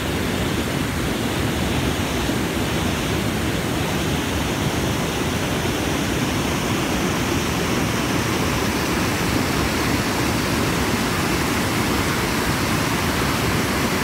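A raging river in Nepal's Manaslu and Tsum Valley trekking region roars in a steady, loud, unbroken rush of whitewater that fills the whole scene, with no voices.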